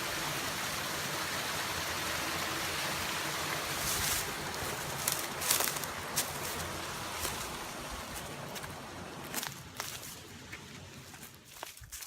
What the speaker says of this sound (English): Mill Creek Falls.